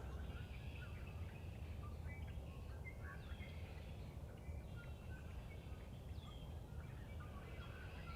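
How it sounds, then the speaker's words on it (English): Faint chirps and tweets from many birds in a tree line along a trail rise over a low, steady outdoor rumble, distant and soft. "Listen to all these birds."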